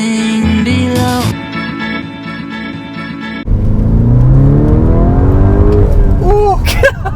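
A Lamborghini Urus SUV revs hard and surges away, its loud engine note climbing through gear changes close by, with a brief voice over the roar.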